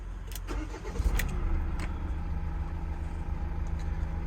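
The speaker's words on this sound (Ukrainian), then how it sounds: "Моторчик працює ідеально" A Renault Master cargo van engine runs at a steady low idle, with a brief rougher rev near the start, then a constant hum.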